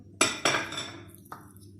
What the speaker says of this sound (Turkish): Mısırı da karıştırıyorum.